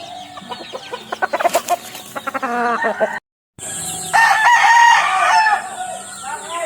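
A young rooster, a stag, crows and clucks close by in a backyard, with a rising crow followed by bursts of clucking after a brief silent gap.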